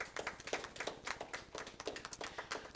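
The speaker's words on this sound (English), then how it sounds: "I think that deserves a round of applause." A crowd applauds at a quarterly press conference: dense, steady clapping from many hands that swells and holds for a few seconds at moderate distance, with no talking over it.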